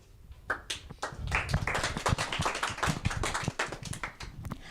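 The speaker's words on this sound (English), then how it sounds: "If you enjoyed Willie, clap once. If you enjoyed the rest, clap twice." An audience claps in response to a host at a children's journalism training graduation ceremony, a loose scatter of hand claps and taps rising into a brief ragged burst, fairly quiet and without talk.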